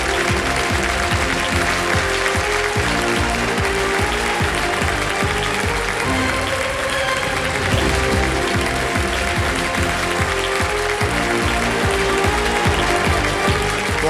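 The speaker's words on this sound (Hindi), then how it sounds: "एक बार फिर तालियां बज जाए" Studio audience clapping on the Hindi TV quiz show Kaun Banega Crorepati, a loud, dense and steady applause with strong rhythmic beats under it, running for the whole stretch with no talk.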